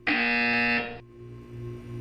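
A loud electronic buzzer from the Portal 2 video game sounds once for about a second and then cuts off, leaving a low hum of background tones.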